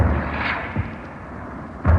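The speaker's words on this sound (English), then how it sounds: "Colonel Thomas, All three batteries firing on Hill 274." Artillery batteries fire in a 1939 radio broadcast, with deep, muffled booms at the start and at the end and a lower rumble between them, heavy and loud over a dull, noisy background.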